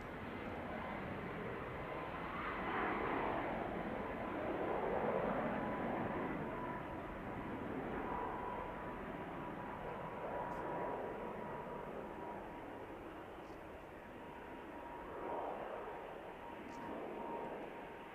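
An aircraft departing Manchester Airport, producing a broad, distant roar that holds steady and rises and falls gently for the whole stretch.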